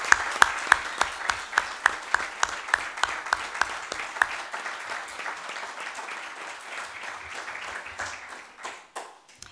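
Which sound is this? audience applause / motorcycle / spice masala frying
audience applause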